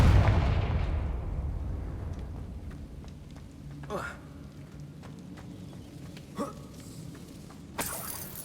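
A Confringo fire spell explodes in a Harry Potter video game: a loud booming blast at the start that slowly fades into a rumbling tail, followed by a few fainter pops and whooshes.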